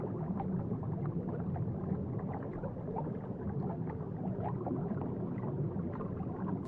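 Blue whale vocalization, a dense, continuous low rumbling drone with faint moans rising above it. It is steady and fairly loud throughout and sounds submerged and resonant, with no talk.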